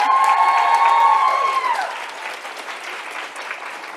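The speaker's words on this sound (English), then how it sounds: "Can you give yourselves a round of applause for being great?" A crowd applauds loudly, sustained clapping that fades slightly toward the end, with a tonal sound sliding down early on.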